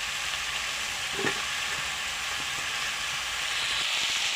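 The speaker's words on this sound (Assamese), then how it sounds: "মাংস তেলত দিলোঁ, হাফ ফ্ৰাই হৈ গ'ল।" Meat and potatoes fry in hot oil in a pan over a wood fire on a cold day, giving a dense, continuous close sizzle with a brief scrape partway through.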